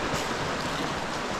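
A clear creek near a campsite by an ancient city in Arizona flows with a steady, close rushing and babbling wash, brief and continuous with no voices.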